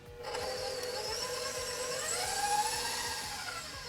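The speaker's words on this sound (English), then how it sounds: "we're going to start with our butter and add that to our mixer. Go ahead and give that a mix so that we get it nice and smooth and creamy" An electric stand mixer whips butter for caramel buttercream, a steady loud motor whir with a rhythmic mechanical churn running evenly throughout, no voices.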